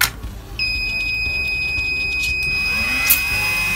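The buzzer on an Arduino fire-fighting robot sounds a steady, high electronic tone for about two seconds after it detects a flame, over a low background hum.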